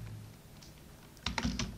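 Typing on a computer keyboard while writing HTML code for a Facebook-style site, quiet at first, then a brief burst of a few close key clicks near the end.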